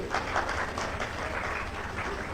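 Steady, dense clapping from an audience at an Indonesian Gerakan Rakyat political gathering, honouring the DPW leaders; a continuous mid-level patter throughout, with no pauses.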